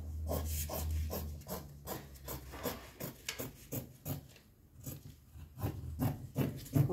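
Scissors cutting through folded fabric for a child's two-piece outfit, heard up close as a steady series of rasping, rubbing snips that repeat for several seconds with no talking.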